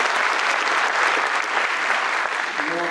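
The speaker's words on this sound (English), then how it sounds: "So a round of applause to those teams." Audience applause at a developer summit keynote, a dense, steady wash of many hands clapping that holds loud and even throughout, with faint voices underneath near the end.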